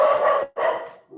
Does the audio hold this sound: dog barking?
yes